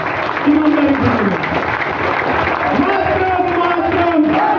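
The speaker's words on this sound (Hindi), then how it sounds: "50 सेकेंड में ढीले पड़ गई है तालियां, ईमानदारी से।" A crowd at a political meeting in Lakhisarai district applauds loudly and continuously, with cheering and voices mixed into the steady roar of clapping.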